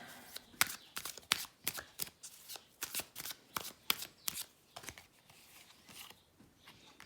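A deck of tarot guidance cards being shuffled by hand, a quick run of crisp riffling bursts close up and fairly quiet, with no talking.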